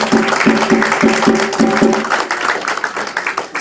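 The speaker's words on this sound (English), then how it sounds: "I'm going to ask you to give them a round of applause" Audience applause for the organisers at a Jamaican literary salon with jewelry and art exhibit, a dense, continuous patter of many hands clapping close by, with faint rhythmic tapping beneath.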